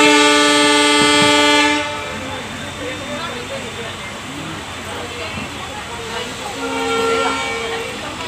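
A passenger train pulls out of Gola railway station in India, a loud horn blast at the start giving way to rumbling wheels and carriage clatter, with a second shorter horn near the end and people talking nearby.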